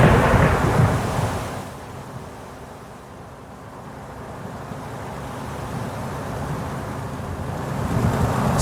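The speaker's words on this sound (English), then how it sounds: "while the storm made a thunderous" Deep rolling thunder rumbles loudly at first, fades to a low grumble, then swells again as the storm continues, with no voices.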